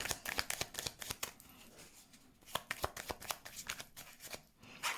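Tarot cards riffled and shuffled by hand, a soft, fast flutter in quick bursts, then cards slapped and laid out, close and quiet with no talking.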